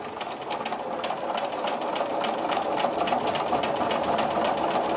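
Sewing machine quilting an orange peel design across a grid, a steady fast mechanical whir with rapid needle ticks running continuously at close range.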